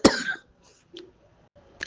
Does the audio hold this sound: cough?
yes